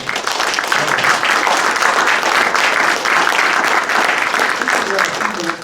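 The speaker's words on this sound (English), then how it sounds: "Can we have a round of applause for the panel?" An audience at a tech talent panel gives a sustained, fairly loud round of applause, and voices can be heard under the clapping toward the end.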